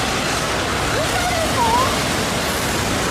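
Flash floodwater rushing through a village at the foot of a mountain in Japan, tearing a huge hole in a road: a loud, dense, unbroken roar of torrent with faint voices barely audible beneath it.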